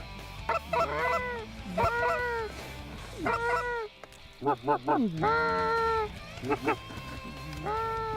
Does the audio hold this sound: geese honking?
yes